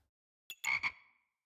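A Poison Frog croak from the video game Backpack Battles, a short clean synthetic ribbit of two or three quick pulses after a soft click, alone with no talk.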